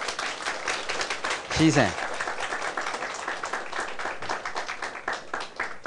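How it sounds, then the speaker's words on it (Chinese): Sustained applause from a lecture audience welcoming a speaker to a farm-management and health talk, dense steady clapping throughout with a brief spoken word over it. "咱两个热烈的掌声来个欢迎"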